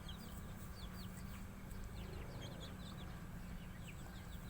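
Young chicks under three weeks old in a backyard flock with their mother hen, giving faint scattered high peeps and soft clucks over a steady low background hum, with no talking.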